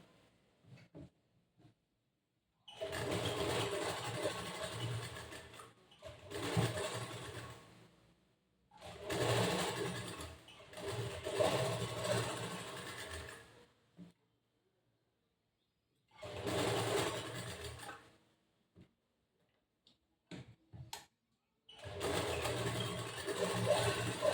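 A sewing machine stitches the back part of a boat neck blouse in several whirring runs of a few seconds each, separated by short silences, close and steady, with no talking.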